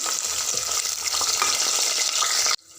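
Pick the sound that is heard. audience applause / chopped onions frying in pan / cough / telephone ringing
chopped onions frying in pan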